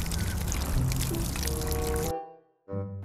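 Water pours steadily and loudly into a container for about two seconds, its pitch rising slightly as it fills. Then it stops abruptly and a short splash or settling sound follows.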